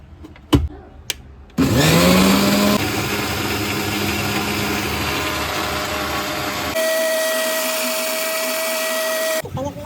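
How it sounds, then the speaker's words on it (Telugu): A mixer grinder blending mango lassi runs loud and close with a steady whining drone that shifts pitch partway through, after a few knocks at the start, then cuts off. "సో ఇప్పుడైతే మనం మిక్సీ అయితే పట్టేసుకుందాం"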